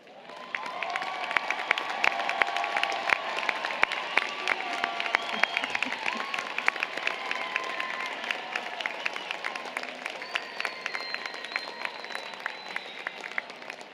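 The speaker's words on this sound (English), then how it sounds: "please rise and receive our applause" Sustained applause from a university commencement audience at an engineering and computer science ceremony, many hands clapping in a crisp, continuous rattle with occasional faint cheers, lasting well over ten seconds.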